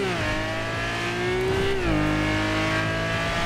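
Engine of a GT3 sports car in the video game GTA 5, a loud sustained buzzing drone that holds steady, drops in pitch at a gear change, then carries on at a lower pitch.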